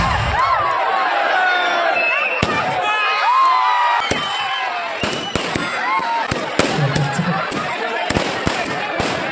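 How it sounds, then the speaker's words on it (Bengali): Fireworks burst in sharp, repeated cracks and pops at a village football tournament just before kickoff, loud against a busy crowd of voices, shouting and celebration. "এবার খেলাটা শুরু হওয়ার আগে এখনই কিন্তু বাজি ফুটবে"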